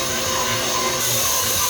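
A KitchenAid stand mixer kneading bread dough: a steady, loud motor whir with a grinding, churning texture, continuous and close, with no talking.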